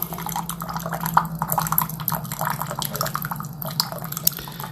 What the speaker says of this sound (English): And you can see the hot water, how it's coming out and dispersing to this system.